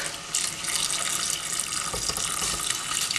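Stock poured from a spill-prone jug into a pan for an oven-baked orange and ginger beef stew, a steady, continuous liquid splashing and trickling close by, with no talking.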